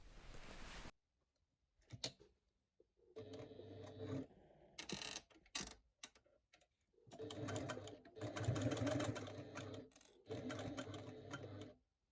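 A sewing machine stitches along the short and bottom edges of a slim bag with card slots, a zipper, webbing and a large buckle, running in several loud bursts separated by brief pauses.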